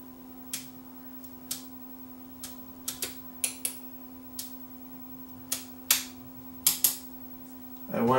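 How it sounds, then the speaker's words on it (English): Sharp, isolated clicks of electrical relays in an Akai AS-1080DB quad receiver with no sound output, scattered irregularly over a steady low electrical hum. "You can hear the relays clicking now."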